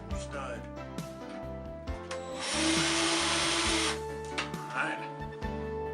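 A power drill drives a screw into a wall stud during a fluorescent light fixture installation, a sustained whirring burst in the middle flanked by shorter starts and stops, close and loud, with someone talking.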